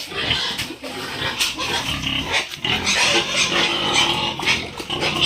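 Pigs grunting and snuffling at close range on a farm during feeding with an animal feed supplement, a dense, continuous stretch of rough grunts and shuffling that runs the whole time with no one speaking.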